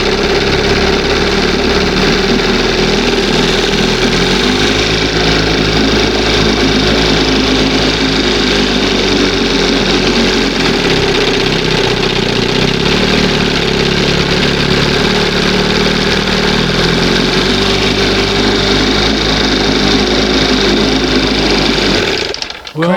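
A 1971 Johnson 20 HP outboard motor that is sucking air somewhere runs loud and close, a steady buzzing rattle with slight rises and dips in speed before it cuts off at the end.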